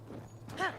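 Horse hooves walk in Tears of the Kingdom, a short quiet clip-clop of a few soft steps under faint game ambience, with a brief whinny-like tonal call near the end.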